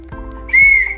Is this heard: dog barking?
no